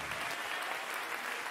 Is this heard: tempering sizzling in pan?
no